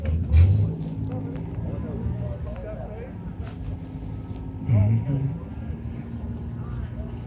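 A 632ci big block Chevy nitrous drag car sits at an eighth-mile drag strip, its deep engine rumbling steadily with two heavier surges, one early and one later, while voices carry faintly in the background.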